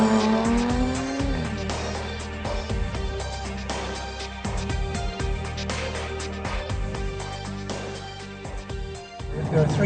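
A Jaguar F-Type sports car is driven hard on winding Welsh roads with a passenger aboard. The engine note rises and falls through gear changes, and its tires squeal briefly on the corners, all under background music.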